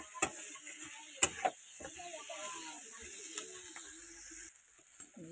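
Onions fry in a pan with the faint hiss of oil while a utensil scrapes and clinks against the metal in scattered sharp strokes, fairly quiet and close.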